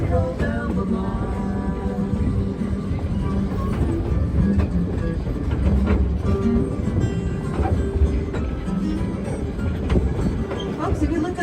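Dollywood Express steam train rolling along the rails at Pigeon Forge, Tennessee, a steady rumbling clatter of wheels and carriage heard from on board, continuous and fairly loud with crowd noise mixed in.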